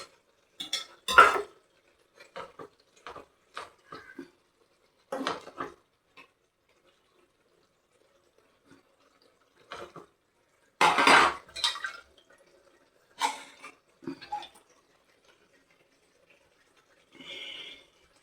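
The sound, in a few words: rinsing the sauce bowl and adding water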